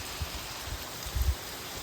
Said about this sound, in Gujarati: ઉપરથી જો પાણી પડતું હોય